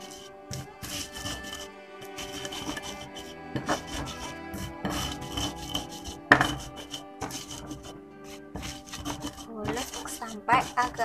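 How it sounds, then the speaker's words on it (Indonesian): Peanut sambal with palm sugar and a little white sugar is ground by hand in a stone mortar, giving close, irregular scraping and grinding strokes with occasional sharper knocks, heard alone without talk. "Kemudian kita ulek."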